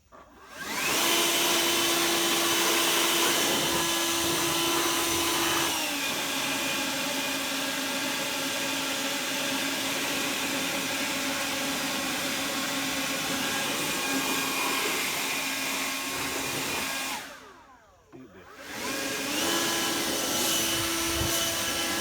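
An air blower roars steadily as it clears out dust, a loud continuous whooshing whine that cuts out briefly near the end and then starts up again.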